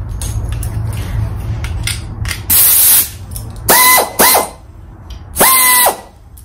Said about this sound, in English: an air ratchet does all that for you and way faster